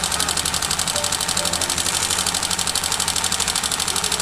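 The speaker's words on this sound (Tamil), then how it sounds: "ஒரு மாதிரி கட கட கட கட கடங்கிற ஒரு சவுண்டு வந்து நாய்ஸ் மட்டும் வந்துக்கிட்டே இருக்குது" Honda Livo motorcycle engine idling with a steady, rapid mechanical knocking, a continuous close clatter that repeats evenly throughout without pause.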